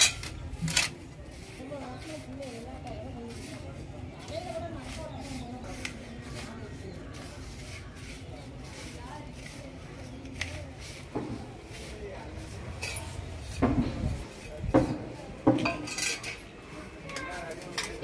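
Ground idli powder ingredients, roasted and stone-ground on a grinding stone, are mixed together in a metal vessel, giving soft scraping and occasional clinks of a utensil against the pot while a person talks over it.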